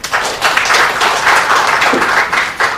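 Loud, close applause at a press conference, dense clapping from a crowd swelling and dipping in waves throughout.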